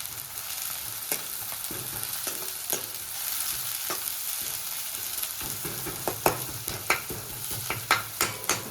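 Onions fry in a pan of hot oil for Gujarati-style batata poha, giving a steady hissing sizzle broken by sharp scraping clicks of a spoon stirring, which quicken toward the end.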